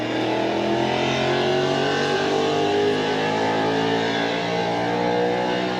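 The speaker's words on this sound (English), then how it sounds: "you can hear the dyno in the background." At an indoor Mustang and Ford show in a convention center, a car revs hard on a dyno, a loud sustained engine roar that holds steady and fills the hall.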